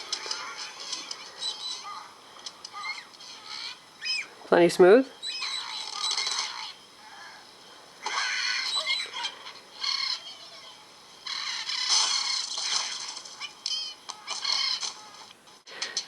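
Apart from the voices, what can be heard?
Angry Birds Rio bird sounds from a video game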